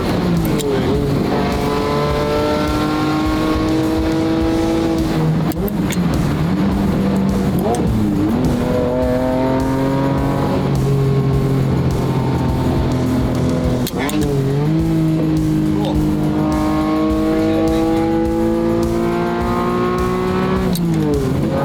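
A performance car with its exhaust moved to the rear revs hard through repeated rising and falling gear pulls, loud and close, with a brief tire squeal and voices talking underneath.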